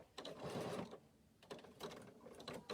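Fabric runs through a sewing machine in two fairly loud, close bursts of rapid mechanical stitching, split by a short pause, with no voices.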